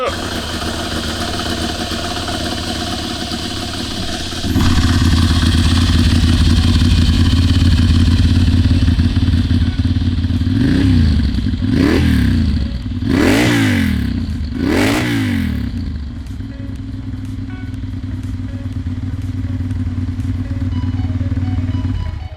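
An Italian motorcycle engine, choke pulled, idles steadily, then rises through several quick revs before settling back to a loud, close idle.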